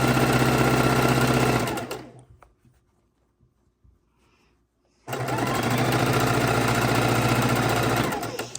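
A sewing machine stitches jelly roll quilt strips, running loud and close in a steady whirring hum, then stopping for about three seconds before starting again and running steadily to the end.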